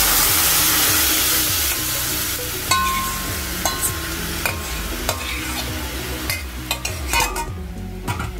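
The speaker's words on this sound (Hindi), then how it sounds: "अब इसमें हम डालेंगे ग्रेवी।" Gravy poured into a hot pan with ginger for butter chicken sizzles loudly as a spoon scrapes and stirs in quick repeated strokes, with sharp clinks against the pan, and no talking.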